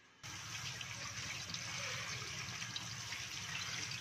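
Sliced potatoes are rinsed in a bowl of water in a home kitchen, giving a steady, continuous sloshing and running-water wash that starts abruptly and continues without talk.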